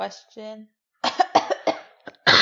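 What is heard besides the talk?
cough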